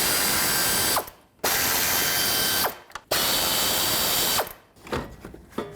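A ratchet backs out 10mm bolts on the fans of a 2003-2008 Subaru Forester A/C condenser, giving fast, close clicking runs in three bursts separated by brief pauses.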